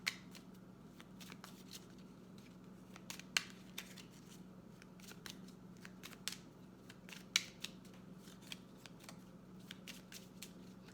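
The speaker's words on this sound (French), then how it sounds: "Mais j'aime autant tirer une nouvelle carte." Tarot cards being shuffled and drawn, a steady papery rustle broken by sharp flicks and snaps of cards at irregular intervals, close and fairly quiet over a low steady hum, with no talking.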